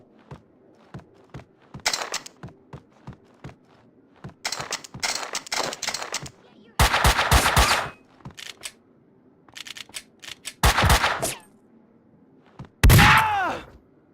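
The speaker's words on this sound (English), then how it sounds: "Someone must have heard the gunfire." Gunfire in the video game Max Payne 2, with loud close bursts of rapid shots between quieter clicks and thuds, ending in a heavy blast.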